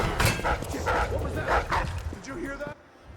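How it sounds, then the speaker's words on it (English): A dog in Dishonored: Death of the Outsider barks and yips in a rapid burst of close, sharp calls, then trails off into quieter whimpering before cutting to near silence. "There's a dog."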